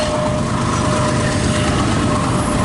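Westbound container freight train led by an ES44AC locomotive passing close by, a loud continuous rumble and rattle of wheels and cars with no voices.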